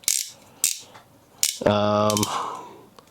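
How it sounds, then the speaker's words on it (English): Ratcheted waist joint of a DreamStar Excavator Warrior toy figure clicking in a fast burst of ratchet clicks, preceded by a few separate sharp taps, close and fairly loud. "At the waist, we get another ratcheted waist all the way around."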